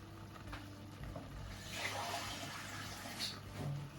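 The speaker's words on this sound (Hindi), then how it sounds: "इसमें हम थोड़ा सा पानी डाल देंगे।" Water poured into a cooking pot of meat and dry spices for aloo gosht, a steady splashing pour running for a few seconds at moderate level with kitchen background hum.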